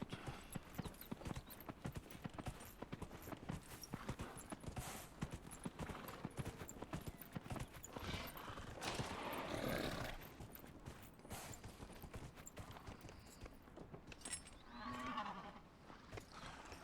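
Horse hooves clip-clopping in a quick, steady rhythm while riding a mount in the Dragon Age video game, moderately close, with faint background ambience and a brief louder swell partway through.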